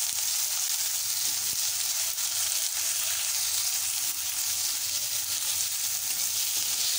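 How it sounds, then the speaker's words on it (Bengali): Onion paste fries in a pan with a steady, bright sizzle and soft crackling, occasionally stirred, close and continuous with no talk. "পেঁয়াজ বাটাটাকে হালকা করে ভেজে নেওয়ার পর"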